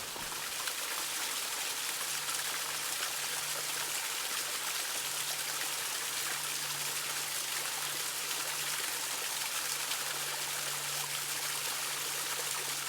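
A small waterfall on a creek at Dick's Creek Gap gives off a steady, full rush of splashing water. The sound is even and unbroken, with no voices over it.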